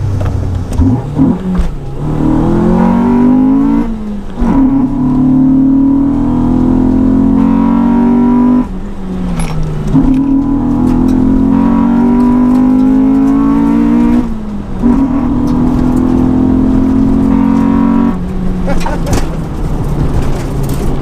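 A modified Honda track car with a B16 engine, loud and close from inside the cabin, climbing through the revs in repeated rising pulls with brief dips at gear changes, the note hardening at the top, while occupants talk over it.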